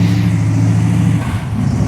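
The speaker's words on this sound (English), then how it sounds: "More cars continue to roll in." Classic cars, including a Grand Marquis, roll into a street cruise in Pasadena ahead of the Rose Parade, their engines giving a steady, close, loud low rumble.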